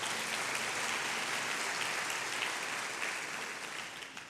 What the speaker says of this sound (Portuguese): aplauda bem forte o nome de Jesus.